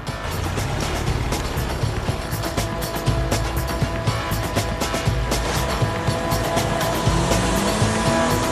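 A car roars off with tires squealing, the engine loud and close and revving hard throughout, with sustained skidding screech and dense road noise in a dramatic street scene.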